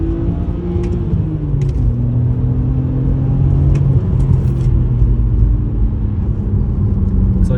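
A 280 bhp BMW 130i pulls steadily along a road, its engine rumbling and whirring loudly from inside the cabin as it accelerates, with the pitch climbing in stages, and no talking.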